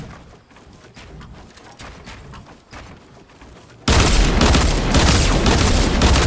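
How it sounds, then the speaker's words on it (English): Rapid pistol fire from dual pistols in the Fortnite battle royale video game, a sustained, loud burst of shots that erupts suddenly after a quieter stretch of scattered game sounds. "Great suppressive fire, that's all I can say."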